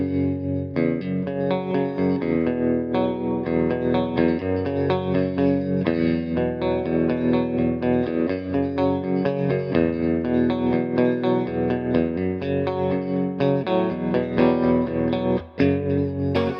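Magnatone Twilighter guitar amplifier switched to AM vibrato pitch shifting, playing a steady, dense electric guitar riff with a wavering, processed tone throughout, loud and continuous with no talking.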